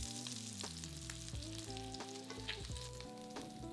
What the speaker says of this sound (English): Cook for 3 to 4 minutes until the salmon is golden brown.